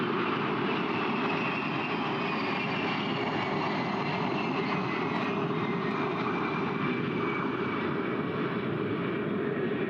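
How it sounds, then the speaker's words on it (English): A KC-135 tanker flies overhead at an air show open house at Selfridge Air National Guard Base, a continuous loud jet roar that holds steady, with no voices. "Flying our KC-135 today."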